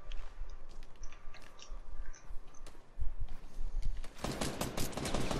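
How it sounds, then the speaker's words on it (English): Scattered gunshots in a multiplayer shooter match, sporadic cracks at varying distances, then a loud sustained automatic burst in the final second. "Right here, I'm getting shot at."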